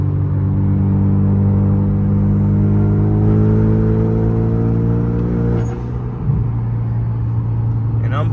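A 2014 Hyundai Genesis Coupe 2.0T engine pulls steadily in 6th gear with a low, droning rumble heard from inside the car before easing off near the end.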